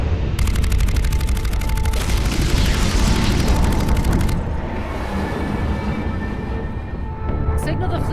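Dense, sustained volley of rapid weapons fire and booming explosions from a space fleet battle, a loud continuous barrage that eases after a few seconds into a rumbling tail, with a voice briefly heard.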